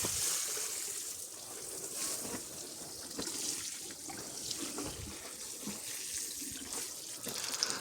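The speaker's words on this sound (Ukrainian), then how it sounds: "перелив я водичку в цю лійку. Тут 12 рослинок, 10 літрів води. Тобто все виливаємо" Water pours steadily from a watering can onto tomato plants in a greenhouse, a continuous close splashing stream with slight fluctuations.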